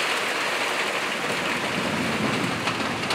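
Heavy summer downpour in Tomsk, a dense, continuous roar of rain hissing on surfaces, loud and steady throughout with no voices.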